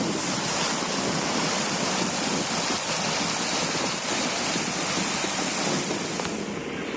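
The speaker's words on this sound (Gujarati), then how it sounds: "નદીમાંથી કેટલું સુંદર પાણી પસાર થઈ રહ્યું છે" Rain-swollen river water rushes past a riverbank near an old Shiva temple in Amreli, a loud, steady broadband roar of flowing water with a wind-like hiss and no talking.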